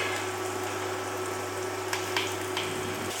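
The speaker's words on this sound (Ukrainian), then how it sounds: "Сковорідка сипить." Chopped vegetables sizzle in hot oil in a heated frying pan, giving a continuous, even hiss with a low steady hum beneath it. A few soft pops and crackles break through near the end.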